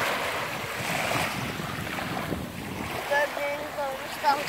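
Sea waves wash and rush steadily at Topçam, Antalya, mixed with gusty wind noise buffeting the microphone, with a few faint higher tones near the end.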